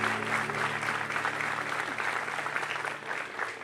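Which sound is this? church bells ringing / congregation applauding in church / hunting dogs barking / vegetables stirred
congregation applauding in church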